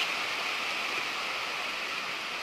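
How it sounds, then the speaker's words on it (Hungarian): Water rushes from the outflow of the big waterfall at Plitvice Lakes National Park in Croatia, a dense, even roar of falling water that holds steady throughout. "Itt pedig a nagy vízesésnek a kifolyója"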